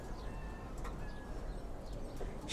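Lalpatti pigeon chicks give short, soft coos nearby against a low steady background, with no voices.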